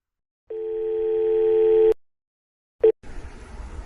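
A steady telephone dial tone hums for about a second and a half, then cuts off; after a short click, faint electronic noise follows.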